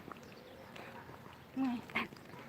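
A dog barks once or twice at a distance amid faint outdoor ambience during a hot-weather walk in Italy, with a low murmur of people in the background.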